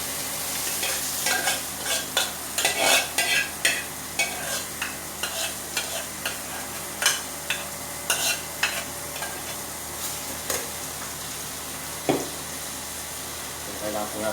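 Mung beans stirred in a pot, a spoon scraping and knocking in a steady run of strokes over a low bubbling sizzle, fairly close.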